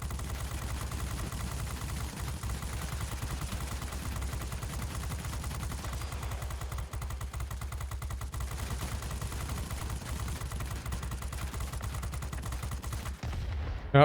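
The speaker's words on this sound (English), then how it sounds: "The dorsal gunner has a really wide arc of fire" A dorsal gunner fires from a plane in the flight-combat game World of Warplanes, a long, continuous machine-gun rattle of rapid shots over a steady engine drone, holding for about fourteen seconds before cutting off.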